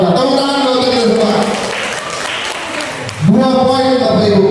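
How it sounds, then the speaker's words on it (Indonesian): An audience at a school teachers' session breaks into applause, a broad wash of clapping under loud overlapping voices that cuts off and gives way to talk. "Tepuk tangan dulu kita semua"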